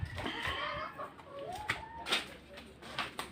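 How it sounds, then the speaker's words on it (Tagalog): Several chickens cluck close by in short, irregular bursts, their calls overlapping faintly with no talking. "ito yung mga manok."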